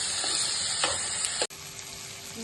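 Onions and tomato pieces frying in a pan for paneer masala curry, a steady close sizzle with a few stirring scrapes and a brief dip partway through.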